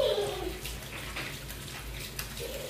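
Tap water runs and splashes while hands are washed at a home sink, a steady close rush with uneven spattering throughout.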